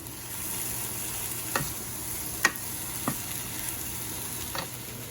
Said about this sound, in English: now we're gonna start frying the onions and the mushrooms together in the pan